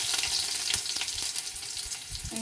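Mustard and fennel seeds sizzle and crackle in hot oil in a pan while a rasam is being made, with a close, steady frying hiss broken by quick popping bursts and no talk.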